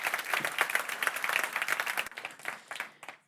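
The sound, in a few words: audience applause for a speaker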